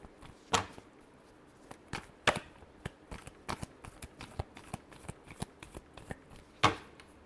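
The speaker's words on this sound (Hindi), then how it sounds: "last shuffle" Tarot cards shuffled by hand in a quiet room, a steady run of soft riffling flicks and papery slaps with a few sharper snaps standing out, close and alone without talk.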